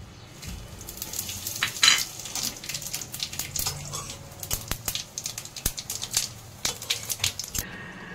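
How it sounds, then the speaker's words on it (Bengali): Cumin, bay leaf, dry chilli and whole garam masala sizzle in hot oil, giving a crackling hiss broken by clatters of a spoon stirring against the pan, close up and with no voices. "আর জিরা, তেজপাতা আর গোটা গরম মশলা তেলের মধ্যে ছাড়ছি।"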